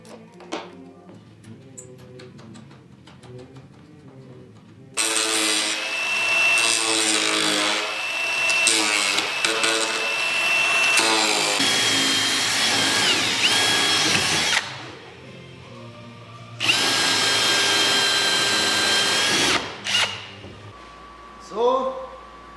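Power tools grind and drill out rivets along an aluminum rub rail on a HydroStream boat, with loud, close bursts of high whining separated by quieter gaps and short pauses.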